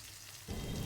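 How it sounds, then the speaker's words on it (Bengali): Chopped tomato, ginger and garlic hit a hot pan halfway through, setting off a loud, steady broadband sizzle that continues to the end after a quiet start. "টমেটো কুচি, আদা কুচি আর রসুন কুচিটা দিয়ে দেবো। দিয়ে ভালোভাবে এটা কিন্তু ভেজে নেব।"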